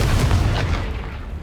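Confringo blasting spell cast in Hogwarts Legacy, a close, loud, booming burst with a deep rumbling low end that fades over a second and a half.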